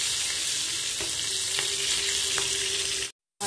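Chopped tomato and onion frying in a cooking pot for a paneer gravy give a steady, close, hissing sizzle, broken by a short silent gap just before the end.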